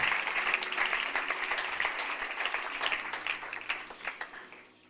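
A church congregation at a Sunday service claps for the Lord, a moderate burst of applause that gradually thins out and tapers off toward the end.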